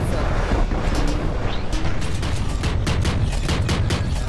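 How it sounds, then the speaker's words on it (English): A shotgun fires repeatedly in the VR shooter Space Pirate Trainer DX amid a loud, dense barrage of rapid gunfire bursts and blasts over constant game noise. "That shotgun really is not very powerful."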